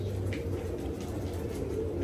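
Soft pigeon cooing over a steady low rumble of background noise, with faint bird calls nearby and no voices.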